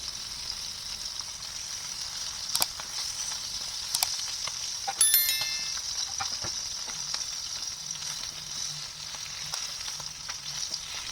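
Salmon belly steak fries in a pan with a steady, close sizzling hiss, punctuated by a few sharp pops and clinks of a utensil against the pan.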